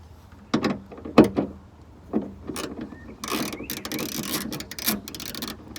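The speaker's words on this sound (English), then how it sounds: "It is the E8 socket, so using that, I want to take those 3 bolts out." Ratchet with an E8 socket backing out bolts on a Vauxhall Corsa VXR, heard close up as a few sharp clicks and knocks that give way to a longer stretch of steady ratcheting.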